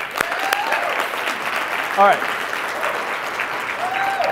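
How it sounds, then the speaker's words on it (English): An audience at a hypnosis talk gives a volunteer a round of applause, a moderate wash of clapping that runs throughout. A voice briefly cuts in over it. "Give her Allie a round of applause"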